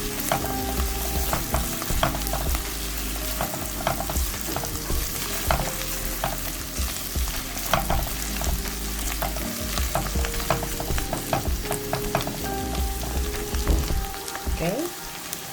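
Beef stir-frying in a hot wok with canned button mushrooms, steady crackling sizzle with repeated scraping and clattering of a spatula stirring, close and continuous throughout.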